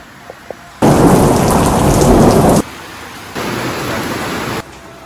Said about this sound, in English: it was raining non-stop for 3 days in a row